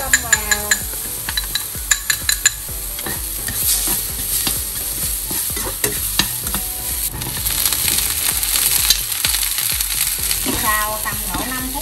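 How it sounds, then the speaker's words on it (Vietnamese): Minced garlic stir-fries in sesame oil in a pan, a steady loud sizzle with repeated scraping and clinks of a utensil stirring against the cookware throughout. "Xào tầm độ 5 phút cho mọi người"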